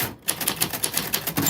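Rapid typewriter keystrokes clatter in a steady run of about ten sharp, evenly spaced clicks, with a brief pause near the start and a small bell-like ding toward the end.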